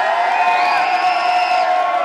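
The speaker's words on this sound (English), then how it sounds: "Can we get a round of applause?" A live audience at a Liverpool showcase cheers and whoops for a wild-card performer, with loud sustained shouts and whistling over a crowd roar, close and continuous throughout.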